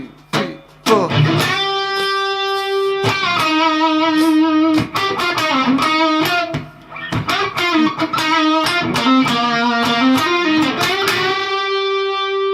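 Electric guitar plays the lead solo at full speed, a run of bright, sustained distorted notes with picked attacks and a few ringing held notes, loud and alone.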